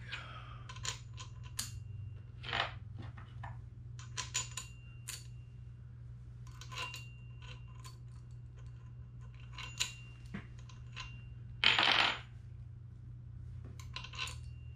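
Small metal clinks and taps as thick steel washers are fitted onto the hub of a D-Way Premier CBN grinding wheel, sparse and close over a steady low hum, with one longer scraping rasp.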